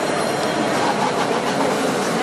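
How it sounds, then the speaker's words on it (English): A tram pulls into a station in Casablanca, Morocco, with a steady, dense rumble of wheels on rails and rolling rail noise filling the whole stretch at close range. "Got a tram coming our way."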